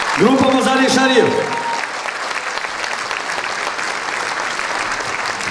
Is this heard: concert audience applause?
yes